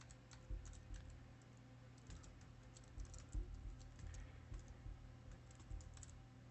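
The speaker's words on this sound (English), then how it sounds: "type in Metropolis Street Racer" Fingers type quickly on a computer keyboard while a game title is entered for a Dreamcast GDEmu SD card menu setup, producing soft irregular clicks with brief pauses, faint and close.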